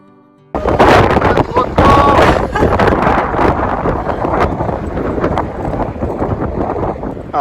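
Heavy gusts buffet the microphone beside a lighthouse on a wild, windswept Dutch island. The roar starts suddenly after a brief quiet moment and then rumbles loudly and unevenly throughout.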